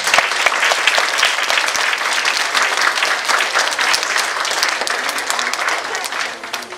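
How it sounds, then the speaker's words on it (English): A large crowd applauds at a kindergarten Christmas program, dense continuous clapping that stays loud and even for nearly seven seconds. "Could we clap for them, please?"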